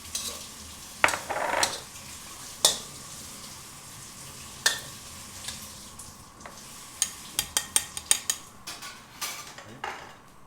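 Spaghetti cooks in bacon oil in a wok for carbonara, with a steady sizzle under repeated sharp clanks of a utensil against the pan, growing into a quick series of taps near the end.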